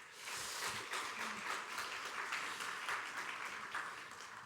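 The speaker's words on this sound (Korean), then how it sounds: "여러분 크게 박수 한번 하겠습니다." Church congregation applauding a visiting former denominational general assembly president, a soft, distant, steady wash of clapping that rises after a brief pause and tapers slightly at the end.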